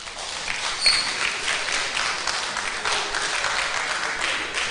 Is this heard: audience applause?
yes